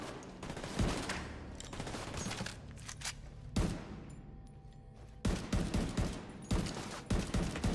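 Gunfire in The Division 2 plays as dense, continuous bursts of automatic shots, with sharper volleys rising in the second half as the firing intensifies.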